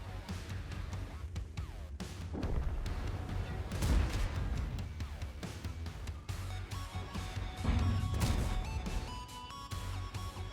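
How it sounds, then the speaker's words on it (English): A shell slams into the side of a tank in World of Tanks, a heavy crash over a dense rumble of battle with further thumps and impacts, loud throughout. "the IS-6 is quick to put a shot into my side"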